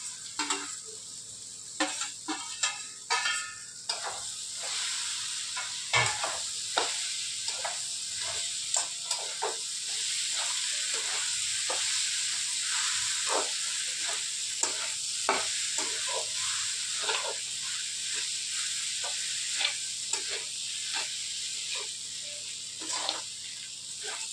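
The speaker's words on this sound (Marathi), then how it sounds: "आता थोडंसं टाकत आहोत भिजवलेले कुरडे भाजले" A soft, continuous sizzle of soaked kurdai frying in a pan, broken by frequent scraping and tapping as a spatula stirs the food.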